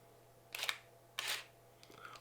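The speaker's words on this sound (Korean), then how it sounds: "자, 그럼 일단 느린 셔터 스피드로 한번 가볼게요. 2분의 1초." A Contax Aria semi-automatic film camera fires its shutter at a slow half-second speed, giving two quiet, close mechanical clicks about half a second apart as the shutter opens and then closes, followed by a faint whir, with no speech.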